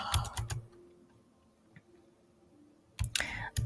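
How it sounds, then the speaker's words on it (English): Bursts of rapid, crisp clicking from a mechanical computer keyboard at the start and end, with a quiet pause between and a voice faintly mixed in. "this keyboard is a little bit louder than the other one I've been using"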